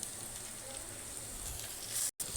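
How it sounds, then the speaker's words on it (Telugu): Garlic and dried red chilies fry in hot oil for a Telugu pickle, giving a constant close sizzle and crackle throughout, briefly cut out near the end. "ఫ్రై అయిపోతున్నాయండి ముక్కలు"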